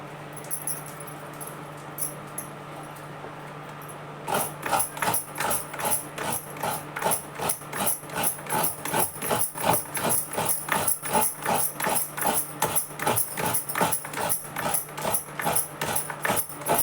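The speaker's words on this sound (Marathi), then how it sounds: "मी आपली ही विळी वापरते माझी मम्मी असं पटापट नारळ खवून होतो खवून घेते ह्या दोन्ही वाट्या नारळाच्या खवून घेते" A traditional vili blade grates coconut halves in quick, regular rasping strokes, a steady scraping rhythm that starts after a few seconds of quiet background and continues close and crisp.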